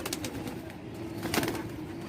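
Pigeons in a dovecote give low, soft cooing calls over a steady ambient hum, with a brief flutter of wing or feather noise midway; no talking is present.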